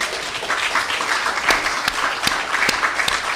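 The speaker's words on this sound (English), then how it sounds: "Can we give a round of applause?" Audience applause for a church choir fills the room as steady, dense clapping, with a few sharper individual claps standing out near the end.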